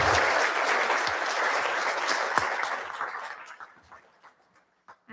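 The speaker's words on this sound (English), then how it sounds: "Can we again give a round of applause for Joseph?" Audience applause at a TEDx talk at Central Michigan University, a loud sustained burst of clapping that thins out and fades to scattered claps near the end.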